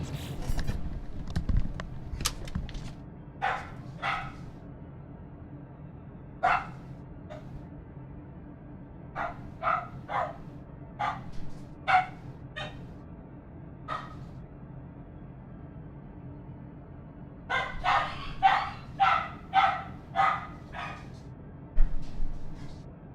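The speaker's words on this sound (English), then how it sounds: "My dogs are going ballistic." Several dogs bark in bursts indoors, with sharp yips and woofs spread across the scene. The barking is scattered at first, then a fast cluster comes near the end, with quiet gaps between.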